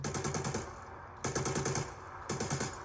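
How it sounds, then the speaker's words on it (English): A machine pistol in a video game fires three rapid full-auto bursts, each about a second long, loud and close with short gaps between them. "The machine pistol, I have no idea what this is based on."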